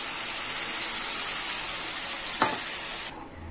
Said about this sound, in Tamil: இப்போ வெங்காய தக்காளி கொஞ்சம் வதங்கின ஸ்டேஜில் நம்ம கரைச்சி வச்சுருக்க இந்த புளியை சேர்த்துக்கலாம்.